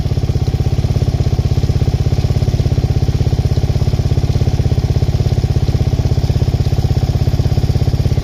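A warmed-up LTZ400 ATV engine idles a little high, steadily and loudly up close, a fast even chugging with a slight uneven pop, running alone without any voices.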